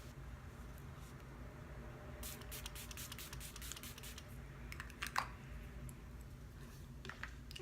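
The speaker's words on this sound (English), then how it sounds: "Milani Make It Last setting spray." Milani Make It Last setting spray misted onto a face, short soft hissing bursts in quick clusters over a low background hum, fairly faint and close.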